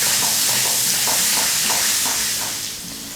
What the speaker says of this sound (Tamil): இஞ்சி பூண்டு விழுது வந்து நல்லா குக் ஆகணும். எண்ணெயிலே சேர்த்தா அதோட ஃப்ளேவர்லாம் நல்லா இறங்கும் ரைஸில்.